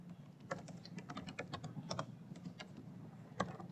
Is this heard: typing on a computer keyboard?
yes